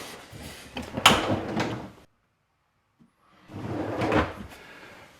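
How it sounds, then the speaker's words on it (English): Wooden inner cabinet drawers slide open with a smooth rolling rumble and soft knock, a second of silence, then another drawer run, close and clear. "The inside drawers open like that."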